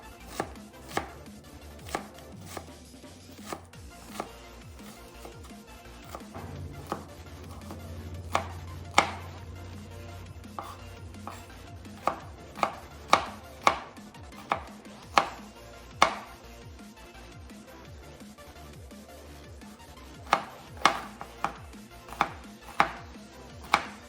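A knife chops bell pepper and onion on a cutting board, producing a long series of sharp, irregular thuds, sometimes in quick runs, close and clear against a quiet kitchen with no talking.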